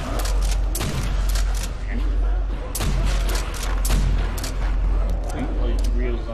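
Gunfire in Call of Duty's Nacht der Untoten zombies mode, rapid repeated shots and booms in bursts over a constant low rumble, with people talking over it.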